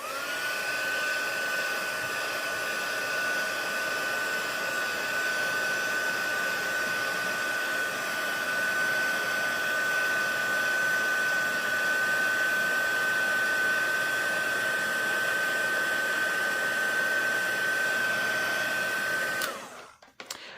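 Heat embossing tool on its second setting blowing hot air over a paper craft piece, a steady loud whirring blast with a high whine that runs unbroken for about nineteen seconds before cutting off abruptly.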